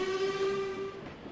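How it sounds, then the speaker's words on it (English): A steam whistle from an LMS Coronation Class locomotive in the Trainz railway simulator sounds one long steady blast that fades out at the end, heard alone. "Now, I want to do the proper whistle that we do in the UK."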